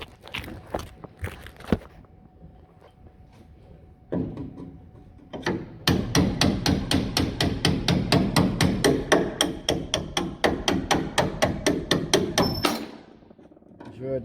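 A bolt is hammered out of a Ford Transit Mk1 front spring: scattered knocks, then a long run of rapid, loud, evenly spaced metal hammer blows close by, ending abruptly.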